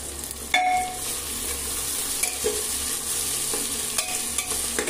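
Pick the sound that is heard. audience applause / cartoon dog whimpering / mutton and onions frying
mutton and onions frying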